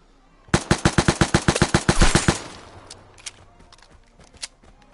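A weapon firing in the game Vigor: a rapid automatic burst of about fifteen sharp, loud shots over two seconds, then a few scattered quieter shots and clicks as the echo fades.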